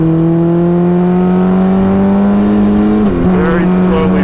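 Race car engine at Summit Point Raceway on a damp track, a steady loud drone with rising harmonics as the throttle is slowly rolled on, dipping briefly near the end before climbing again.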